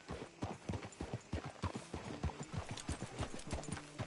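Horse hooves clip-clop at a steady walking rhythm through an old-west town in the video game Red Dead Redemption 2, fairly quiet and close, with no talk over them.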